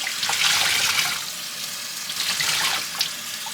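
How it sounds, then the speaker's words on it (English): Tap water runs steadily over tie-dyed shorts being rinsed in a sink, a continuous close splashing hiss with small surges as the fabric shifts under the stream. "I'm just rinsing this out until the water stops turning blue."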